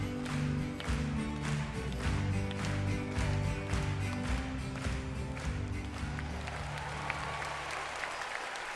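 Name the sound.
audience applause in concert storybook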